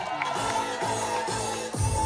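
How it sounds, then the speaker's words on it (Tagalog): Party audience at a 70th birthday celebration answering with clapping and shouts, a loud, continuous burst of crowd cheering close by. "Palakpakan na may sigawan!"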